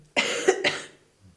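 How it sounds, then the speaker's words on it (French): A male patient in a doctor's examination coughs when asked, two sharp close coughs in quick succession, then a short quiet pause with a faint low rumble. "Toussez."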